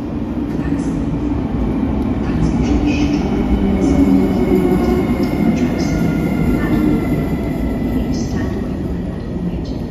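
A loud, steady rumble of an Express Intercity train rolling into a Warsaw station, continuous wheel and carriage noise with faint high squeals, filling the whole stretch.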